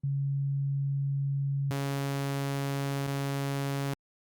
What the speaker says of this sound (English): those are the 4 waveforms: sine wave, sawtooth wave, triangle wave, square wave